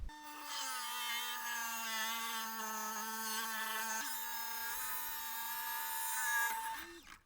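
Rock saw cutting through a hard agate nodule, giving a continuous high whining drone with layered harmonic tones that shift slightly in pitch, loud and close with no talking.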